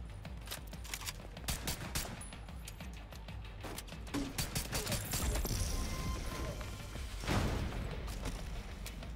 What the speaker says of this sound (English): we're getting shot from a different location.